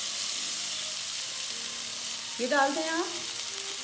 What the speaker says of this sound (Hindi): जैसे ही ऑयल गर्म हो जाएगा मैं इसमें यहाँ पर डालूंगी ये दो मैंने मीडियम साइज़ के अनियन लिए